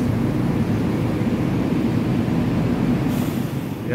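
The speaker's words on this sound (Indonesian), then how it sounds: "Ini dia dilansir juga keretanya dengan mundur." A passenger train on Java's line toward Cilacap station rumbles steadily as it is manually shunted in reverse, a continuous low rolling drone with no voices, easing slightly near the end.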